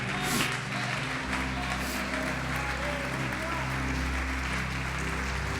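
A church congregation applauds in praise at an evening service, a steady wash of clapping with voices mixed in, moderately loud and filling the room.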